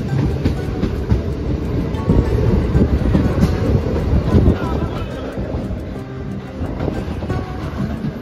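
A passenger train en route to Krishnanagar, a loud, close, continuous rumble and rattle of carriages with faint rhythmic clacking of wheels over the rails throughout.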